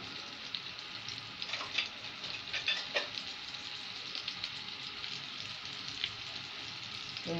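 Kofta meatballs fry in a pan, a steady soft sizzle with scattered crackles and pops running the whole time, fairly quiet and close, with no talk.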